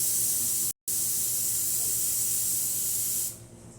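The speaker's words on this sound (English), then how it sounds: "Test the steam on here." A Rocket Professionale espresso machine's steam wand hisses loudly and steadily up close, with one very brief break near the start, then the hiss cuts off near the end.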